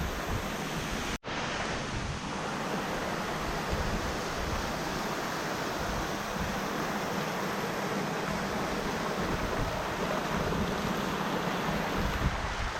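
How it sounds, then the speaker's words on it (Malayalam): Water rushes steadily down a waterfall into Solang Valley near Manali, a dense, loud, continuous roar that fills the whole stretch after a brief cut at the start. "ആ വെള്ളം അവിടുന്ന് ഒഴുകി അതങ്ങനെ താഴേക്ക് എങ്ങനെ ആ വാലിയിലോട്ട് ഒഴുകി പോവുകയാണ്."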